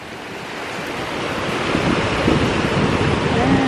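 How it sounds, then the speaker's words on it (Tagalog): Sea waves breaking on a Moroccan shore, a dense, loud roar of surf that swells gradually, mixed with wind buffeting the microphone. "Lalo na tipagbulo ang dagat."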